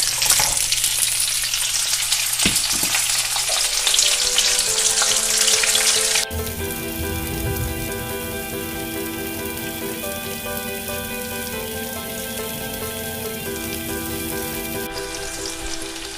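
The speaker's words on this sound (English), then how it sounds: "They also have some nice charring from the hot oil, so they're blistering up very nicely." Green beans and garlic blistering in hot oil in a pan, a loud steady crackling sizzle that drops to a softer, even frying hiss partway through, with no talking.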